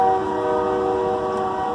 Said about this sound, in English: great, train's going by